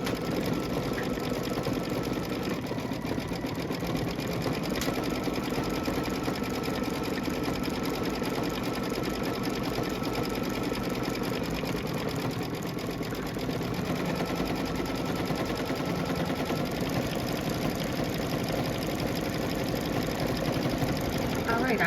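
An embroidery sewing machine stitches a Kimberbell pillow panel with a steady, unbroken mechanical chatter that runs close and even throughout.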